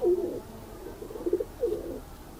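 A breeding pigeon coos three times in a soft, low, rolling rhythm, close by with a faint background hum and no talking.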